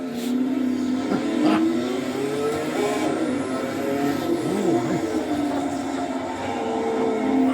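Race car engine in a slot car racing video game featuring a Porsche 917 CanAm, a continuous revving whine that rises and falls in pitch as it shifts down, loud and steady throughout.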